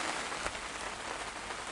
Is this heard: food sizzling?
no